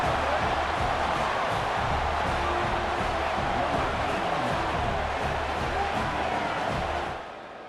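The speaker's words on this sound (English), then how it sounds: "And here comes the noise. This crowd is trying to inspire this defense to make a big red zone stop." A dense, continuous roar from a stadium crowd at a Pitt vs Ohio State game in the EA College Football 26 video game. It holds steady and loud for several seconds, then eases off at the very end.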